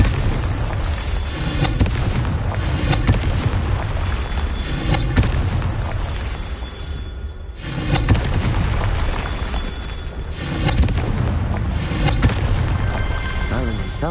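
Confringo fire spells in Hogwarts Legacy go off in a rapid string of loud, booming blasts over a constant roar of combat, with a few brief dips between barrages, close and forceful from start to finish.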